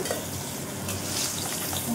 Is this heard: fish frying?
yes